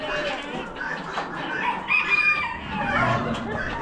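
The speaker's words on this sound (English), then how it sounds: "Black star laying hens." Black Star laying hens cluck and squawk continuously in a noisy poultry auction barn, many birds overlapping at close range, with faint voices mixed into the crowded din.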